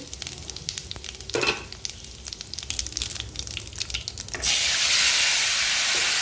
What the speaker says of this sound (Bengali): তার জন্য তেল দিয়ে দিয়েছি, দেবো গোটা জিরে ফোড়ন আর দেবো হিং ফোড়ন